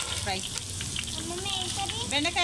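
Okra frying in a pan, a continuous soft sizzle and bubbling with faint scraping as pieces are lifted out, fairly close and steady, with no speech.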